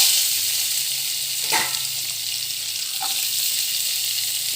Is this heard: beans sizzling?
yes